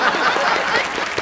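Loud, steady applause from a studio audience at a Pakistani game show, dense clapping without a break, briefly filling the whole space.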